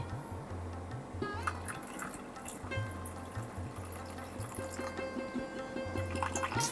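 Water soaked with hing (asafoetida) is poured over fish in a cooking pan, making a faint, light trickle and a few drips over a low background hum.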